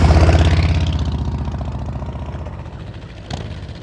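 A motorcycle engine chugs at low revs during slow-speed riding practice in a tight 18-foot box, close and loud at first with a pulsing beat, then fading as it pulls away.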